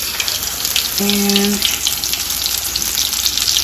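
Breaded pork tenderloin frying in a pan on a stovetop gives a steady, close sizzle that runs throughout, with a brief tonal beep partway through.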